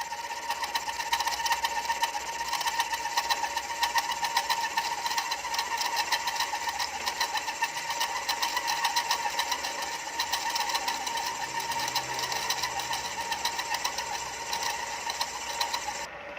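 A boring machine cuts out the cylinder of a two-stroke motorcycle engine, giving a continuous close, loud mechanical whir with a fast rattling pulse that runs steadily throughout, with no talk.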